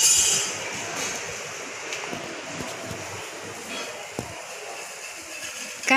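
A train passing nearby, a steady rumbling roar with faint rail clatter and occasional clicks, fairly loud and continuous.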